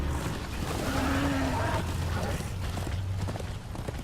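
Horse hooves clop in the Darksiders 2 video game as a summoned horse trots, a brief run of hoofbeats under game ambience and a voice speaking French.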